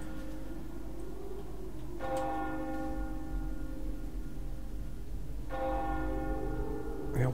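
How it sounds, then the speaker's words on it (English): An old bell tolling in the video game Dishonored, two resonant strikes several seconds apart that ring out and decay slowly over a low ambient hum, with no one speaking. "The old bell's tolling there."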